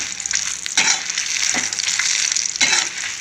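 Dried red chillies fry in hot oil with a loud, close, crackling sizzle that swells in a few bursts as they are stirred, with no voices.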